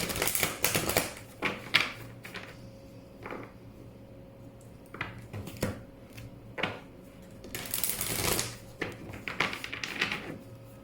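Tarot advice cards being shuffled by hand, giving irregular close, crisp riffles and soft slaps in bursts, with brief pauses between and no talking.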